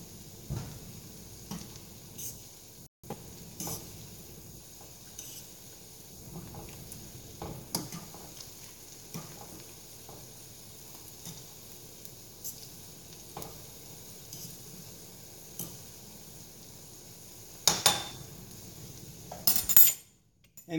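Food sizzles faintly in a pan at a brisket cook, with intermittent spoon scrapes and clinks against the metal, quiet overall, and louder clattering near the end.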